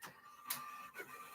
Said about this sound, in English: Damn printer's going off.